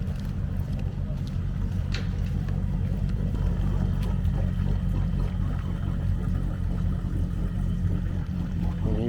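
Motorboat engine droning steadily on open water, one of a lineup of boats taken out ahead of a boat show, with a low continuous rumble filling the whole stretch and some water and wind noise on top.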